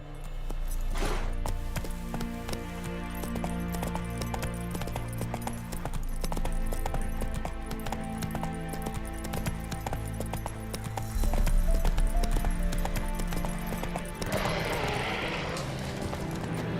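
A horse gallops in the video game The Witcher 3: Wild Hunt, steady rapid hoofbeats drumming under a layered in-game music and ambience bed, with a brief whinny-like burst near the start.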